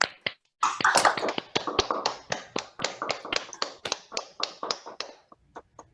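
Participants in an online call clap their hands together, a dense run of sharp, rapid claps over several seconds, starting loud and mixed and thinning toward a few scattered final claps.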